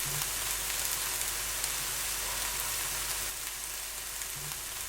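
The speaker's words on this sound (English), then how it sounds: "When it's nice and hot, add the chopped onion." Chopped onion sizzles and fries steadily in hot olive oil in a pan on a large burner, a close, continuous crackling hiss that eases slightly partway through.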